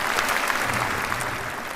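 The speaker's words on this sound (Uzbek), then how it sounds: "ajoyib skripkachi Firdavsga qarsakiylarni ayamanglar" An audience in a concert hall applauds violinist Firdavs. Dense, steady clapping fills the whole short stretch, loud and close, with no voices.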